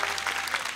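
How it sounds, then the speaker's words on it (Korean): A brief burst of audience applause, dense overlapping claps from many people. "다시 한번 박수 부탁드립니다."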